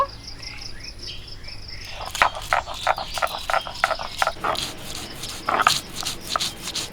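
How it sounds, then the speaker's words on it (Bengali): Black mustard seeds ground into a paste on a grinding stone, heard as steady, rhythmic rubbing strokes close by, starting after a quiet stretch of chirping insects or frogs in the background. "কালো সর্ষে নিয়েছি বেটে নেব"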